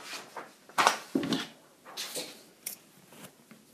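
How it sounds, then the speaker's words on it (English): Scissors snip yarn during crochet work, giving a few soft, close cutting clicks mixed with light rustling of thread and handling, quiet overall. "Grab my scissors."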